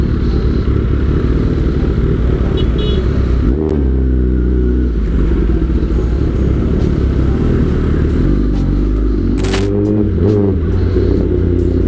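A Kawasaki ZX10R 1000cc motorcycle with an aftermarket exhaust runs loud and steady with a deep, continuous rumble. The pitch shifts briefly a couple of times, with no speech over it.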